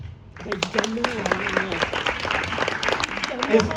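Show audience in a brasserie breaking into applause after a moment of quiet, with voices and a few shouts rising over the clapping.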